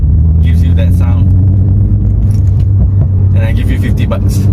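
Petrol MINI F56 LCI2 idling at close range, a steady low rumbling engine drone throughout, with brief jangles and clicks over it.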